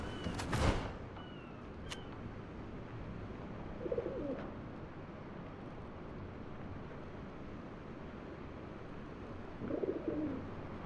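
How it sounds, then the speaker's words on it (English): Pigeon coos sound twice, soft and low, over a steady ambient hum in GreedFall 2 as a bird arrives with mail, opening with a brief sharp sound before the calls. "It appears a bird has brought us some mail."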